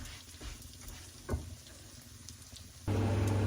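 Dried Maldive fish (masi) frying in hot oil, a steady crackling sizzle with scattered pops, then a louder continuous hiss swells in near the end.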